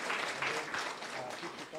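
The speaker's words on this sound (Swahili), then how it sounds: "Wapi makofi ya Zahir tafadhali?" Brief applause from guests at a football club luncheon at Bomas, a short burst of clapping heard beneath a speaking voice.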